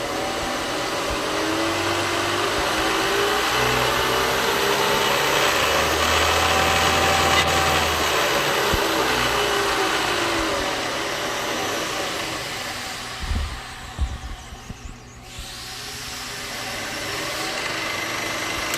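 A 3-axis CNC vertical mill's spindle head runs steadily at speed with a loud, continuous motor whine and hum, broken by a few clunks before it settles back to a steady drone.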